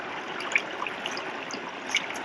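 Water trickles steadily through a small pondless backyard creek waterfall, a close, even splashing wash with a few brighter drips and plinks rising above it, and no voices.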